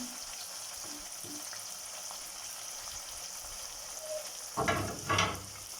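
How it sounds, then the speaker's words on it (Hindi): Tomatoes with whole spices such as bay leaves and black pepper fry in a pan for chana dal fry, giving a steady, close sizzle, then two louder bursts of stirring and crackling near the end. "टमाटर के साथ ही यहाँ हम अपनी स्पाइसेस डाल देंगे।"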